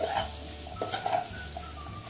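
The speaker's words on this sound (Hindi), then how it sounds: "ये सारे मसाले अभी अच्छी तरह से ये आलू और प्याज में मिला देना है।" Spices being stirred into potatoes and onions in a kadai, a spoon scraping and clinking against the metal in short strokes over a soft sizzle, close and fairly quiet with no talking.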